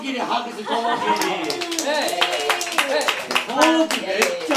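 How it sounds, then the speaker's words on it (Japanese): A small party crowd at a year-end gathering claps steadily for several seconds, with scattered voices and light laughter mixed in among the claps. "拍手"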